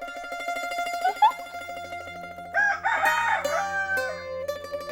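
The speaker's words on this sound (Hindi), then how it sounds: "और जो मुर्गा बांग दे रहा है वो भी शाम को।" A rooster crows in the evening at a village home, its drawn-out cock-a-doodle-doo rising and breaking in pitch, moderately near with a few clucks and other fowl calls around it, no talk.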